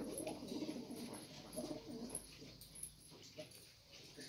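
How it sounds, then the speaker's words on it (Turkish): Tumbler pigeons kept as play birds coo softly in a loft, with repeated low murmuring calls, faint and close, mixed with other quiet bird sounds. "Bunlar benim oyun kuşlarım."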